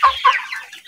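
Chickens cluck in short, close bursts while being handled for fowl typhoid vaccination at eight weeks old, two quick calls followed by a softer trailing cluck.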